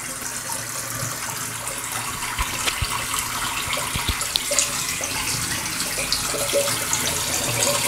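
Hot water runs steadily from a tap into a sink while preparing to shave, a continuous close gushing splash with no voices and a few faint clinks.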